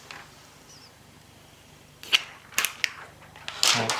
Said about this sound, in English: peel off the screen protector.